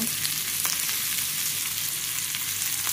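Mustard seeds and cumin sizzle in hot oil while a paneer and capsicum masala gravy is being made. The frying hiss and crackle is loud and close, and it runs continuously the whole time with no voices over it.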